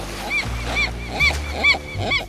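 Seagulls on a sailing boat squawk in a series of about five sharp, nasal calls, close and loud, with a low rumble underneath.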